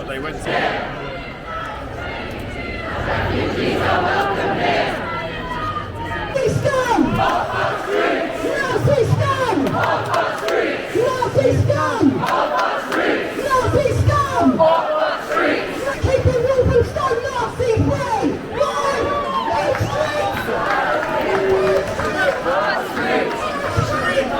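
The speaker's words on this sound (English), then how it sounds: "Loads of people here, so let's walk through the crowd." A large crowd at an anti-racism rally in Walthamstow, London, heard from within: loud, continuous chanting and shouting with nearby chatter and bursts of cheering, rising and swelling throughout.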